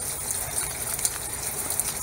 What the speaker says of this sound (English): You can see this water right here is being discharged right at the base of that rock wall